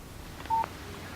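Phone text message alert in the Alan Wake video game, a single short electronic beep tone, brief and clear over a faint background hum, with no talk.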